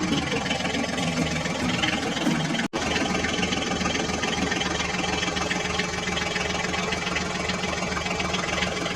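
A toy tractor's engine runs continuously with a dense, buzzing idle-like drone, briefly cutting out for an instant before resuming steadily, close and fairly loud with no speech.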